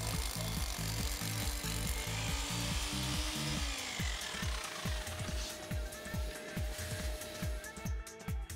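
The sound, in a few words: drilling holes in concrete floor for lift bolts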